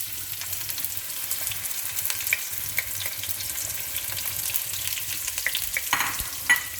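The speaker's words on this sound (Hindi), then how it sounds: "उसके साथ ही अब हम डालेंगे अनियंस।" Onions sizzle and fry in hot oil with garam masala, a close, steady crackling hiss with light stirring and no talk.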